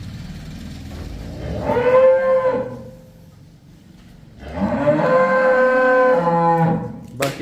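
A heavy-built dairy cow on a farm selling cattle moos twice, loud and close, a long drawn-out call followed by a second low bellow after a brief pause, with faint farm background between.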